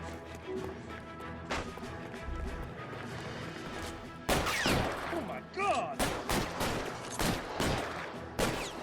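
Video game gunfire in L.A. Noire rings out as a series of sharp, loud shots in the second half amid a police shootout, with game sounds and a voice heard beforehand.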